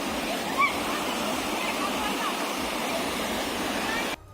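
Floodwater after a cloudburst in Jogindernagar, Mandi, Himachal Pradesh, roars down a drain-stream where a culvert was washed away, a loud, steady broadband rush that holds for about four seconds and then cuts off abruptly.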